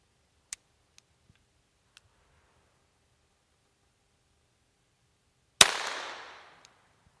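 A 115-year-old Smith and Wesson single-shot .22 LR pistol fires one sharp, loud shot with a short decaying tail, preceded by a few faint clicks of handling in near silence.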